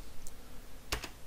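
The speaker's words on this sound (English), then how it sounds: "you simply go to your browser and type in the address bar" A web address being typed on a computer keyboard: a brief burst of a few crisp, close keystroke clicks over a quiet room.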